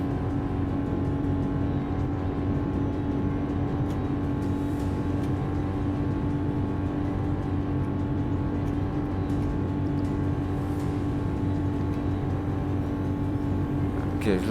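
A stock Alfa Romeo 8C Spider engine drones continuously at high revs as it climbs toward top speed, a dense, steady roar that stays loud throughout with little change.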